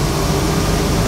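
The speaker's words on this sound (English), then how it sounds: "I'll run the AC here" A DeLorean DMC-12 sits idling with its air conditioning switched on, giving a steady low engine hum blended with broadband blower hiss, continuous and close, with no voices.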